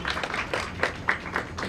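A small audience claps together in a lecture hall, a short burst of brisk, fairly close applause with uneven rhythm and no speech over it.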